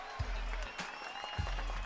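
Rhythmic hand clapping from a radio show studio audience, with a couple of heavier thumps, as the crowd keeps a beat.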